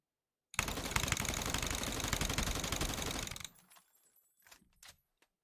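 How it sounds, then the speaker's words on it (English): Rapid single-fire M16 shots in a video game, a dense burst of fast clicked shots lasting about three seconds, then a few scattered mechanical clicks and clatters as it stops. "there's no limit to how fast you can click this gun now on single fire"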